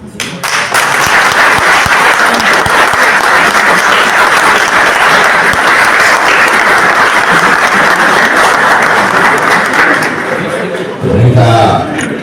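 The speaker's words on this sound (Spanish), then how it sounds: "Con esta ovación de pie." Loud, sustained standing ovation from a large crowd after an academic's speech, with dense clapping that goes on for over ten seconds. A thump comes near the end.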